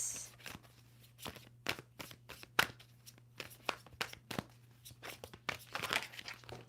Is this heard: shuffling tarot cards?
yes